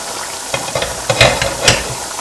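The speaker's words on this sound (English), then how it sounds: "Now look into the curry which has been boiling" Bubbling, sputtering pan of thick South Indian arbi (taro root) curry with irregular pops and spits over a steady low simmer, close by, no voices.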